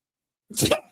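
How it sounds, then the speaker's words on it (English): A single quick sneeze bursts out after a moment of silence, close and fairly loud, then cuts off. "sorry to sneeze on my live here."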